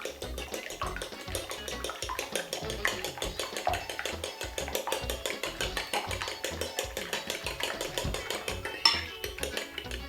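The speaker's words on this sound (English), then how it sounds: "I'll come over here and I'll give this a very good whisk." A yam coating mixture whisked briskly in a bowl, making a fast, steady rhythm of wet clicking and tapping strokes against the sides that runs the whole time, close and moderately loud.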